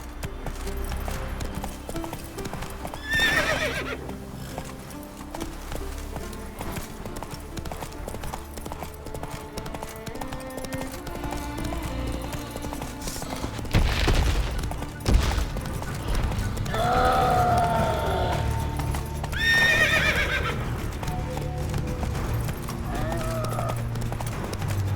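Roach, the horse in The Witcher 3, gallops with a fast, heavy clip-clop rhythm under game music, with a couple of loud whinnies and snorts standing out midway and toward the end, close and prominent.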